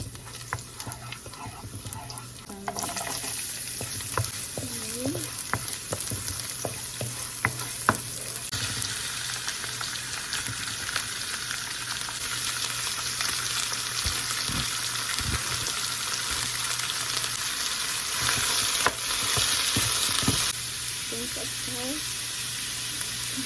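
Garlic frying in olive oil for pork lumpia, a steady loud sizzle and crackle throughout with occasional stirring scrapes and clinks, a voice speaking briefly over it.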